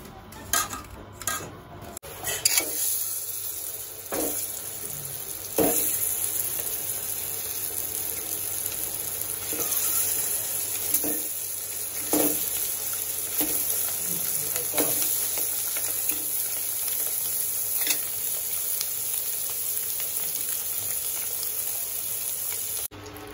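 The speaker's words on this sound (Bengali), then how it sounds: "আগে ডিমগুলো ভেজে নিতে হবে" Eggs frying in oil in a wok for egg bhuna, a steady sizzle throughout with occasional clinks and scrapes of a utensil against the pan.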